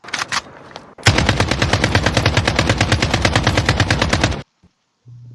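A rapid, loud burst of machine-gun fire rattles for several seconds in an even rhythm, then stops abruptly.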